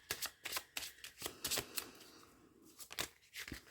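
Lenormand tarot cards are shuffled and drawn by hand, giving quiet, quick riffling bursts and soft slaps in an irregular rhythm, close to the microphone with no talking.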